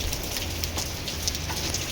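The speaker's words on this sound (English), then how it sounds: "We just started playing in this rain." Rain falling steadily near a beach, a dense even hiss with scattered pattering drops throughout, close and constant, with no talk.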